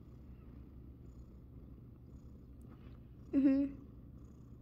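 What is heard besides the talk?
cat purring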